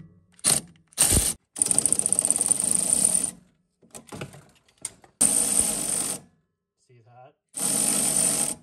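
Sandpaper wedged into a rusty Kubota tractor air conditioning part scrapes and grinds in harsh bursts of uneven length, loud and close, separated by brief pauses and a few faint mechanical clicks.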